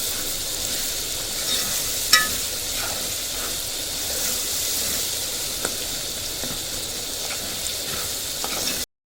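Tomatoes sizzle and fry in a pan for chicken curry, a steady close hiss with scattered scraping taps of a spoon stirring through them.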